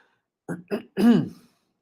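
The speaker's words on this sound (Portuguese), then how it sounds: "Vai dar pigarra aqui na garganta." Throat clearing after eating a biscuit: two short guttural bursts followed by a longer, louder rasping clear, close to the microphone with no talk.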